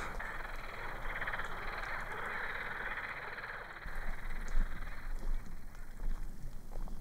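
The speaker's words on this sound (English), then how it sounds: "there's such a cacophony of frogs" A dense, continuous chorus of croaking frogs at a reservoir near Sofia, Bulgaria, steady and loud at first, then thinning into scattered calls over a low outdoor hum.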